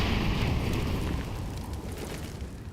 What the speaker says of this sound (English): A lot of grenades being exchanged here on banana.